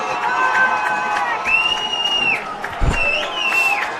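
Football fans at a game against Benedictine cheer and whoop in a steady roar, with shrill whistle-like whoops rising above the crowd noise and a brief thump near the end.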